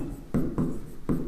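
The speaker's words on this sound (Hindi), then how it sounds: "तो यहां लिख देते हैं," Marker or chalk writing on a board during a physics lecture, heard as three short scratchy strokes in quick succession, close and fairly quiet, with no talk.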